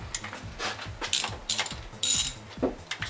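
A 3/8 ratchet with a 10mm socket and 3-inch extension loosens ignition coil bolts, giving quick close bursts of metallic clicking with short pauses between strokes.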